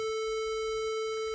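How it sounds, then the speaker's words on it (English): A synthesized square wave tone generated in WebAudioXML holds one steady pitch with a buzzy, harmonic-rich edge, constant and moderately quiet throughout the short stretch. "if I turn on the sound, you will hear a square wave"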